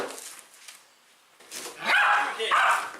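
A small dog barks in a sharp, excited burst of yaps up close, with a few rapid barks near the end following quieter whimpering sounds.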